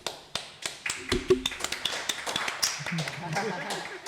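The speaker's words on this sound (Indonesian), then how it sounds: "Tepuk tangan dulu." Scattered claps from a small group in an Indonesian campus podcast studio, sharp separate taps over a few seconds with a voice talking over them.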